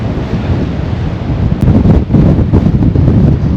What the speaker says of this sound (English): It's what it's like when the wind gets up.